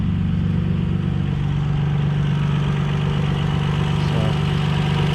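A 2002 Toyota Highlander engine idles steadily and loudly close by, a constant low hum with no revving and no talk throughout.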